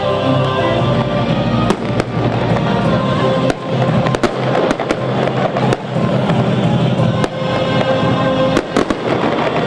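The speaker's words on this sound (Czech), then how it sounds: "No a samozřejmě ten ohňostroj k tomu přispívá." Fireworks at an evening community gathering: loud, sharp bangs go off at irregular intervals over a continuous crackling rumble, close and dense throughout.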